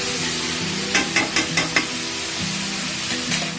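Onions frying in a pan for a light Bengali mutton curry, a constant close sizzle punctuated by a quick series of spoon scrapes and taps against the pan.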